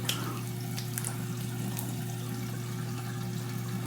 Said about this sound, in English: Remember, cold water rinse.